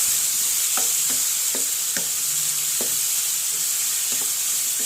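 Ginger, garlic and curry leaves sautéing with salt in a pan, a bright continuous sizzle broken by repeated spatula scrapes and taps at an uneven, unhurried pace.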